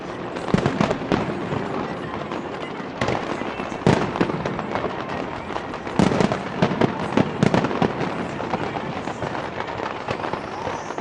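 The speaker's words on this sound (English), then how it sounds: "they've got all these boats from the Thames with the fireworks there" New Year fireworks bursting over the River Thames in London, launched from boats near the London Eye, crackle and pop in dense irregular volleys with loud sharp bangs, close and continuous, with faint crowd voices beneath.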